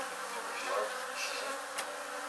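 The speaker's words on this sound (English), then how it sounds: "We got bees. So. They're all coming out." Honeybees swarm out from under floorboard joints during a bee removal, a steady, soft buzzing hum that fills the whole moment with a faint click near the end.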